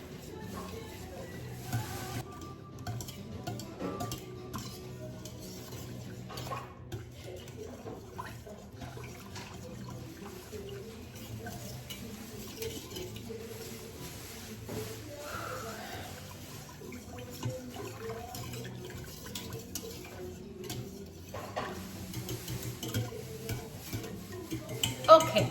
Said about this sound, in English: So with our whisk, you just start mixing.